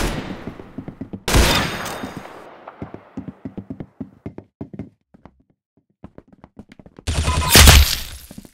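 Sharp gunshot bursts in a one-on-one match between brothers: clusters of quick cracks, two loud sustained volleys with a series of separate single shots between them, close and punchy with brief silent gaps.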